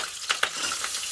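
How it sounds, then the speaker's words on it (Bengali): Very hot oil spatters and crackles around whole cardamom pods and bay leaves for green chicken, a steady close sizzle broken by two sharp pops early on. "বাবা এত গরম হয়ে গেছে তেল, চিটকাচ্ছে"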